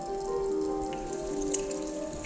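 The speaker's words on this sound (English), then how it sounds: "rain fell" Steady rain falls over a desert landscape with cooler mountains, a dense, even patter of drops filling the whole stretch with no voices.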